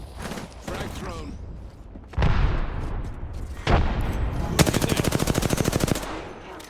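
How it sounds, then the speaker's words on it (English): Smart bullet gunfire in Apex Legends rings out in sharp bursts, ending in a long, rapid rattling volley, with mechanical clicks in between. "Smart bullet firing."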